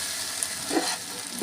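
Shallots and garlic sizzling in hot oil while being stirred in a pan, a steady close fry with a couple of brief scraping stirs.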